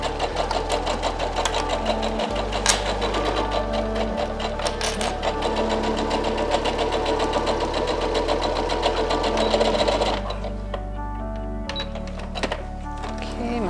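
Sewing machine stitching the seams of a dress, a steady loud mechanical whirr with rhythmic needle knocking that runs continuously and briefly eases off near the end.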